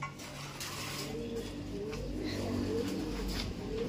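A pigeon coos in a series of low, rolling calls close by, repeated several times against a steady murmur of background noise.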